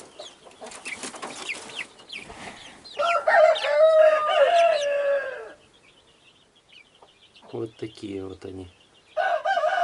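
Young chicks being moved between enclosures at a small farm zoo cluck and peep in bursts between stretches of quiet, close by, with a person speaking briefly among them.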